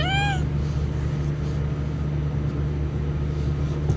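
A kitten in the video game Night in the Woods gives one short, bright meow at the start, then a steady low game hum and ambient drone carry on alone.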